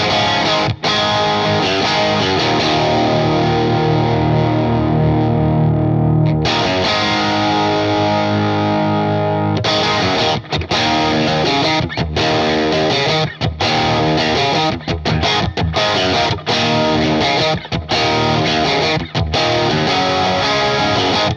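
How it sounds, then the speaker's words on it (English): An electric guitar played through the Neural DSP Fortin NTS amp plugin on its clean channel with the hex drive engaged. It rings out loud and gritty as sustained chords and riffs, with brief pauses between phrases and no talking. "that's just the clean channel with the hex drive in."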